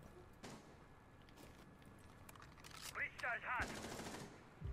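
Gunfire in Rainbow Six Siege as an enemy pre-fires: a faint early shot, then several sharp bursts of rapid shots bunched near the end, with muffled game noise underneath.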